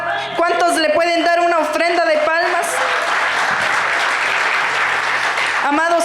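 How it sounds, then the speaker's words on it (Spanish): A church congregation applauds together as an offering of praise, steady broadband clapping filling most of the stretch after a brief burst of music, loud and close. "¿Cuántos le pueden dar una ofrenda de palmas?"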